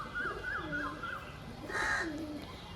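Madras Giribaz pigeons cooing, a soft warbling coo repeated several times in a row, then a couple more calls, faint and nearby.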